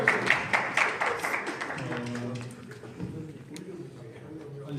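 Scattered audience applause at a Q&A session, a handful of sharp claps near the start that fade quickly into murmuring, with people speaking through and after it.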